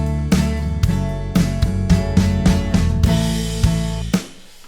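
A run of punchy synthesized bass notes in Logic Pro X, about eight evenly spaced hits, ending on a final note that rings out and fades.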